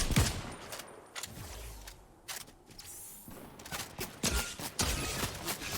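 Gunfire from a lock-on pistol in the Fortnite video game (Chapter 4 Season 2, Zero Build), loud rapid bursts of shots cracking in clusters with mechanical clicks between them.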